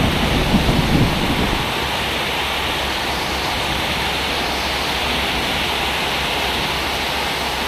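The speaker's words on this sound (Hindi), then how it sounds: "ये बिजली कड़क रही है अभी" Heavy rain pours in a steady dense roar, with a low rumble of thunder at the start that fades into the constant downpour.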